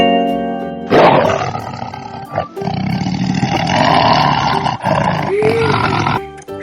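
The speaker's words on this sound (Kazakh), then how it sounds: "жолбарыс," A tiger roars in one long, loud, growling burst that rumbles on for several seconds, close and forceful.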